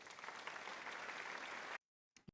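Round of applause sound effect, dense clapping from many hands at steady strength, then cut off abruptly into silence followed by a couple of faint taps.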